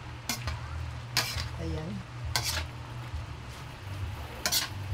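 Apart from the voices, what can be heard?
vegetables stir-frying for pancit bihon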